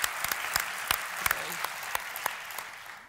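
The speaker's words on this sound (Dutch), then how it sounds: "U krijgt natuurlijk ook een warm applaus." Steady audience applause fills the room, a dense patter of many hands clapping, with a few sharper claps standing out.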